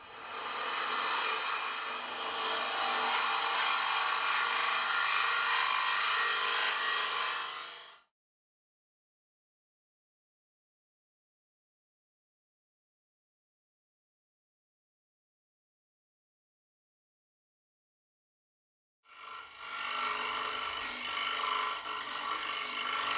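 A TurnMaster high-speed steel cutter scrapes a spinning wooden bowl on a lathe, giving a steady loud rasping hiss for several seconds, then a long silence, then the cutting starts again.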